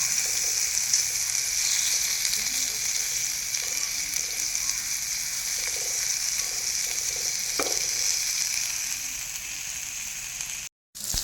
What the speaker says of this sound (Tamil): இந்த மாதிரி பொறுமையாக தான் நம்ம திருப்பி போடணும், ஏன்னா மீன் உடஞ்சி வரும்